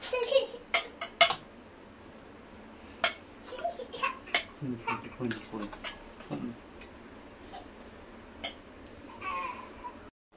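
A metal spoon scrapes and clinks against a bowl in irregular bursts, mixing thick curd rice, with occasional faint sounds in the background.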